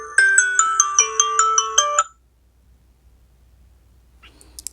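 A Samsung SmartTag plays its ringing tone: a bright electronic melody of about eight quick, evenly spaced beeping notes lasting two seconds, then near silence.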